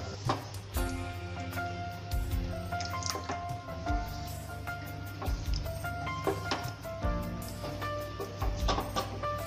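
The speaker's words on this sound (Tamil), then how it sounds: "இது மாதிரியான ஒரு கொதி வரும்" Liquid in a biryani pot comes to a boil, with soft irregular bubbling, plopping and dripping sounds continuing quietly and close by.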